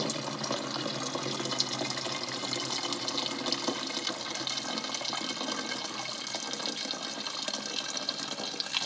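Water spilling out from under the strainer lid of an MSR WindBurner group stove pot, a steady, continuous close-up splash and trickle of poured liquid with no talking.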